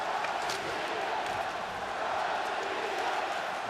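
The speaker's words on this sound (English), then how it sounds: "A large pro-Russian crowd here in Copenhagen cheering them on now." A large pro-Russian crowd at an ice hockey game in Copenhagen, a continuous loud roar of cheering voices filling the arena with no break.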